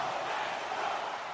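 An ice hockey video game crowd cheering, a faint, steady roar of many voices with no distinct peaks and no commentary over it.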